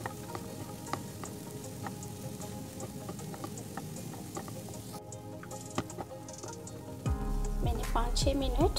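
Semolina halwa roasting in desi ghee, a continuous soft sizzle with scraping stirs of a spoon, a louder burst of frying and clatter near the end, no one speaking.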